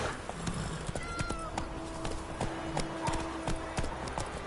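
Roach, the horse from The Witcher, trots along in a game scene, with steady hoof clip-clops repeating under layered ambient noise and occasional tonal game sounds.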